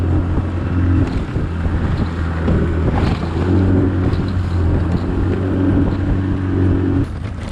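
Boat motor droning steadily at close range as the craft heads out to drop a crab pot off Santa Cruz, with wind buffeting the microphone throughout.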